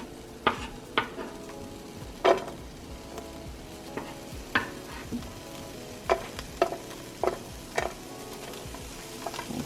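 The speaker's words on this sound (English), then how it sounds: "in this pan I have maybe about a teaspoon of vegetable oil. And we're gonna put our onions in here" Onions frying in about a teaspoon of vegetable oil in a pan, a soft low sizzle under distinct, widely spaced spatula clacks and scrapes against the pan, quiet and close with no talking.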